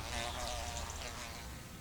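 Close, steady buzzing of ivy bees flying around ivy flowers in autumn, a continuous busy insect hum with faint background sound and no clear talk.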